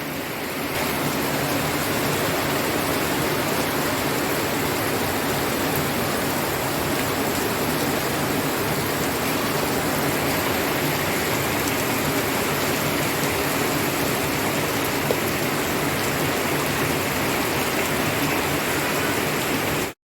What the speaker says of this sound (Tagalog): Oh, ang lakas ng ulan.